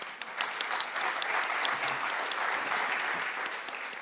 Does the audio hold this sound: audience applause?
yes